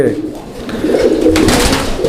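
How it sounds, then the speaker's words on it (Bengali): A pet pair of pigeons cooing close by, soft low throaty coos rolling continuously over about two seconds. "কবুতরগুলো একদম ঝরঝরা করকরা ঠিক আছে একদম চঞ্চল আর খুবই অ্যাক্টিভ"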